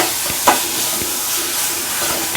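Ginger garlic paste sizzles in a hot pan with onions while being stirred, a steady close frying hiss broken by a few scraping stir strokes.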